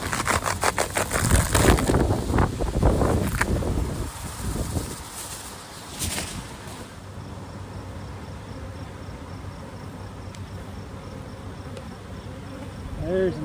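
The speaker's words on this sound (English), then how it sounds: "And that's a box of bees." Honey bees in an open hive box hum in a dense, close buzz that swells loudly at first with handling knocks, then settles to a fainter, steady drone.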